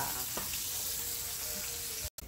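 Chicken pieces browning in a frying pan, a steady broadband sizzle held throughout at a constant level, cut by a brief silent break near the end.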